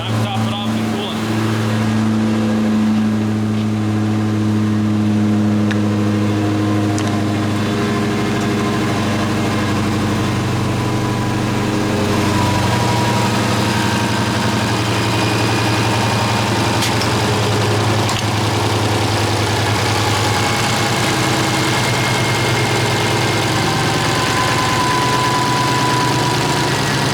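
A Chrysler 300 swapped with a supercharged Demon engine idles after its first start-up, giving a loud, steady, deep rumble with strong low harmonics that runs the whole clip close up, while people talk over it.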